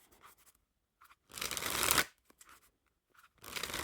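A deck of Black Tally Ho Orbit playing cards, slightly crushed and thin, is shuffled. Two bursts of crisp riffling and fluttering come close to the mic, with quiet card handling between them.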